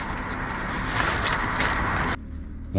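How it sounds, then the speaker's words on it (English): Constant road traffic roars near a hilltop campsite, a loud broadband wash of passing vehicles that swells and stays steady, then drops sharply to a quieter low rumble. "The noise of traffic never stopped, making it hard to fully relax."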